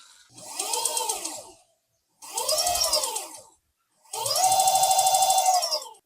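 An electric motorcycle's motor whines up in three throttled bursts, each rising and falling in pitch with brief silences between them, the final burst longer and steadier, close and loud with no talking.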